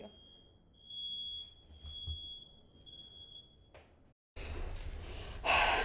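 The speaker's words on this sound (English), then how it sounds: "a fire alarm just went off" A building fire alarm sounds as a sustained high electronic tone under faint breathing, then cuts out abruptly; after a brief silence, louder indoor noise follows.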